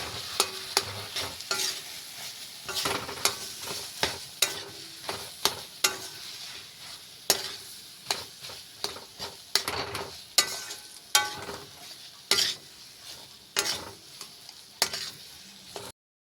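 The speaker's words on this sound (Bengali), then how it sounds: "এখন আলুটা দিয়ে এটাকে লাড়াচাড়া করে মিক্স করে নেবো" Potatoes stirred and mixed while frying in a pan for aloo chop, with a long run of repeated sharp spatula scrapes and knocks against the pan over a steady sizzle, no voices.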